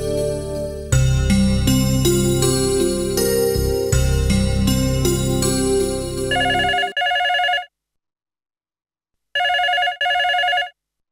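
An electronic telephone ringtone plays loudly, a busy melodic tune followed by repeated short beeping rings separated by a pause of silence.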